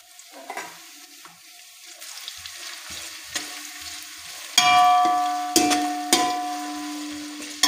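Chopped onion hitting hot oil in a pan for vegetable pulao, a sudden loud sizzle that keeps crackling with short clinks and stirring scrapes, close by.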